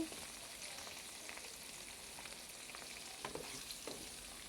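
A tempering of spices crackles and sizzles in hot oil, a quiet, continuous fry broken by a few sharper pops and light stirring scrapes, with no voices.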